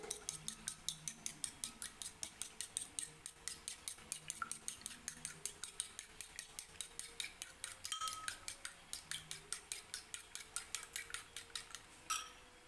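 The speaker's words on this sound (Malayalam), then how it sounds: "ഇതിലേക്ക് ഉപ്പും കുറച്ച് കുരുമുളക് കൂടി ഇട്ട് കൊടുത്തിട്ടുണ്ട് നമുക്കൊന്ന് അടിച്ചെടുക്കാം" Eggs seasoned with salt and pepper are whisked briskly in a bowl, a fast steady run of sharp clicking strokes against the sides, close and alone with no talk.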